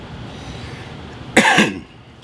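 A single sharp cough from a person with a lingering cold, close and loud, breaks a quiet background before fading into low room noise.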